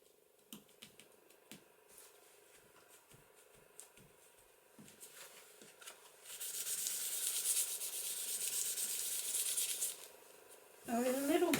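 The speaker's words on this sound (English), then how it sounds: "I have a eraser here, so I'm just going to see if I can get rid of that" Rubber eraser scrubbed back and forth over a heat-embossed, layered floral paper card to lift ink, a steady close rasping that runs for several seconds after scattered light taps and handling sounds.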